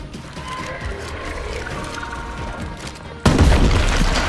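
Gunfire in the video game State of Decay 2 sounds as a sudden loud burst of shots and booms after a few seconds of quieter ambient noise.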